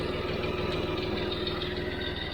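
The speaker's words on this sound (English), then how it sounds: "I actually did turn this tractor off, but knock on wood, it starts every time" Tractor engine idling steadily in a farm barnyard, a John Deere 5055D, Massey Ferguson 1105 or MF 50 diesel, with a constant low rumble and a faint knock running unbroken at close range.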